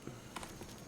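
A horse walks in Skyrim with the Elysium Remastered mod, its hooves giving a few soft, quick clops under a steady wash of game ambience. No voice is heard.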